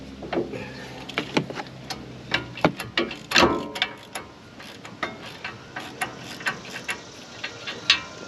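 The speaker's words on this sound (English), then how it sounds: "I like this long 3/8 drive ratchet. With the flex head, it gets you in here better" A long 3/8-inch drive flex-head ratchet works a brake bolt loose on the front of a 2016 Ford F150, giving quick close clicking pawl bursts in uneven runs, with a heavier crack as the bolt breaks free partway through.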